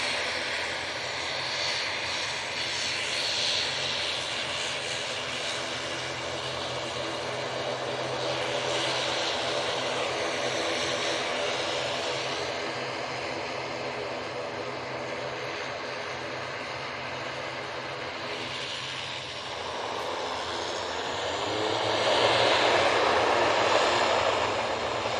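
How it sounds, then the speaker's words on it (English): Aer Lingus propeller airliner engines at Manchester Airport, a steady loud drone holding for the whole stretch and swelling louder near the end as the aircraft comes closer. "Aer Lingus prop now coming on, and we're going to focus on that."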